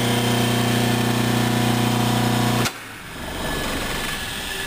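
A 5HP single-phase Dayton farm-duty electric motor, fitted with new capacitors and bearings, runs with a loud, steady hum. The hum cuts off abruptly and is followed by quieter, rougher noise.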